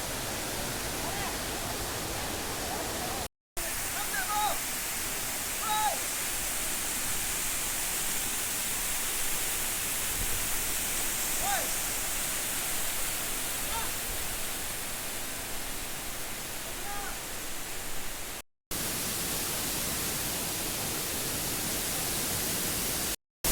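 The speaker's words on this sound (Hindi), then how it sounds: "तो गाइस ये रहा वाटरफॉल।" Waterfall in Karbi Anglong, Assam, a steady broadband roar of falling water running the whole time, loud and continuous, with a few brief cuts and faint birdlike chirps above it.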